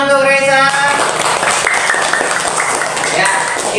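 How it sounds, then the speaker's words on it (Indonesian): A class breaks into brief clapping for a pupil after she recites a Quranic verse, the tail of her recitation audible at the start before the short burst of applause. "tepuk tangan untuk Raisa"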